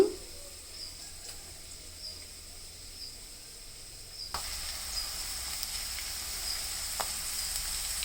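Cabbage frying in a pan with soaked chana dal gives a steady, close sizzle that grows louder partway through and continues without any talking.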